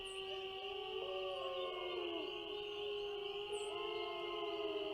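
Eerie howls from ghost dogs in a Nancy Drew video game, long sustained wavering tones sliding in pitch over a steady droning background, loud and continuous throughout with no talk.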